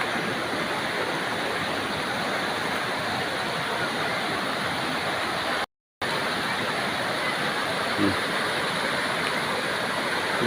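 Bangon Falls at Tarangban, Northern Samar, pours as a steady, loud broadband roar of falling water that runs unbroken except for a brief dropout midway.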